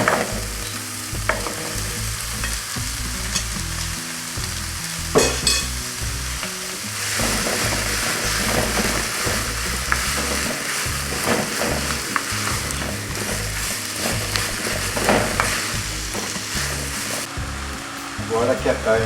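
Ground meat fries with onion and garlic in a pan, a loud, steady sizzle with stirring scrapes running throughout, no voices over it.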